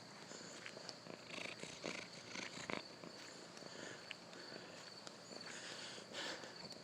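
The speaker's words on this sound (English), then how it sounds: "He's purring." Soft, steady cat purring up close, a low continuous rumble with faint rustling in the background.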